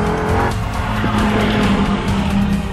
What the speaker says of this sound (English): Squealing understeer.